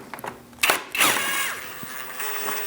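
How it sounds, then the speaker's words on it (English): A bolt being loosened with a 10mm socket on a 2000-2006 Mini Cooper 1.6L L4 during crankshaft position sensor replacement: a few close, sharp metallic clicks and a brief whirring ratchet burst. "Now I'm going to remove the middle one with a 10mm socket."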